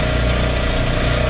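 A gasoline generator engine running at a steady idle, loud and close, with an even, buzzing drone that holds unbroken throughout.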